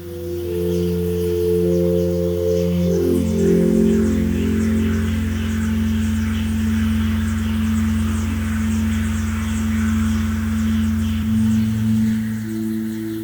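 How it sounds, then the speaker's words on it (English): Granular synthesis from a 1010 Music Lemon Drop plays as sustained, shimmering drone tones with layered pitches that shift and overlap, a steady textured pad with no voices. "what you're hearing there is some granular synthesis by the 1010 Music Lemon Drop"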